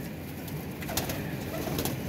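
Pigeons coo softly in a loft setting, low murmuring calls blending into a steady background hum, faint and a little distant, with no speech over them.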